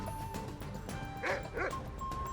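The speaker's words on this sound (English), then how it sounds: "Pet the doggy." A dog in the video game Skyrim gives two short yipping barks over a busy game soundscape, with faint talk in the background.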